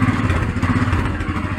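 Close, steady mid-pitched engine running as a motorcycle is shifted into second gear, with a fluttering idle throb and light mechanical clatter.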